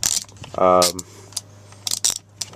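A bolt is ratcheted out of a 2002–2007 steering wheel, giving a quick buzzing run of clicks near the mic, then scattered metallic taps and handling noises close by.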